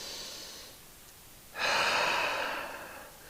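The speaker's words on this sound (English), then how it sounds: "Taking a breath in." During a gentle group exercise session, a faint airy breath is followed by one deep, loud breath drawn in close to the microphone, tapering off slowly.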